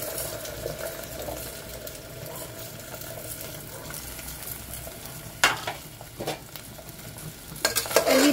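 Arbi (taro root) pieces frying in leftover oil in a pan give a continuous soft sizzle, broken later by a few louder stirring scrapes and clatters toward the end, with no voices.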